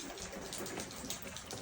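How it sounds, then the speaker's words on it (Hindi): Heavy rain falls in a steady, dense hiss, faint and uniform throughout, with no voices. "बारिश इतनी तेज़ की बारिश हो रही है पिछले 15-20 मिनट से"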